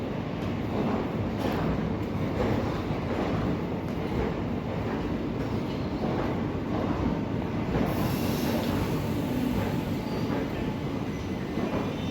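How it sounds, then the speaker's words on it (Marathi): The Tirupati–Sainagar Shirdi weekly express rolls into Nanded station, its steady, close rumble of wheels and cars continuing throughout, with a voice talking over it. "आपली फायनली तिरुपती सायनगर शिर्डी विकली एक्सप्रेस पोहोचली आहे नांदेड इथे एक तास अठरा मिनिटं उशिराने"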